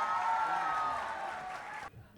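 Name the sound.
audience applause welcoming a poet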